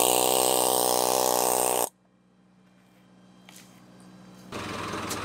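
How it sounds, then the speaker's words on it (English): An air hammer chatters loudly and steadily while clearing hard rammed earth from under concrete forms, stops abruptly, and then starts up again after a quiet stretch; no speech. "So we're going to clear it out with an air hammer"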